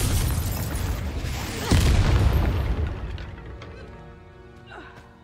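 A Confringo spell cast in Hogwarts Legacy bursts with a loud booming blast, then rumbles and fades into a quieter tail over several seconds.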